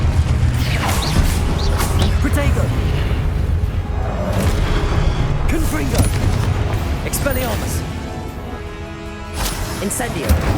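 A Confringo explosive spell is cast in the video game Hogwarts Legacy, producing booming blasts and crackling impacts amid constant loud game clatter and creaks, with a voice heard over the action.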